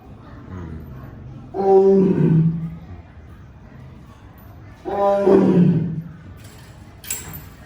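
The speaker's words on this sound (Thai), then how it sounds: "แต่ตัวนี้คำรามอย่างเดียวเลย" A big cat at a tourist spot near the Ayutthaya floating market gives two deep, drawn-out roars a few seconds apart, loud and close, with faint crowd murmur around it.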